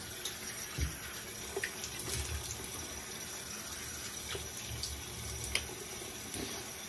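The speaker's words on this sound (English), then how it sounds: "I use cold water for my rinse." Cold tap water runs steadily into a sink while rinsing during a shave, a continuous even splash with a few soft knocks and clinks on top.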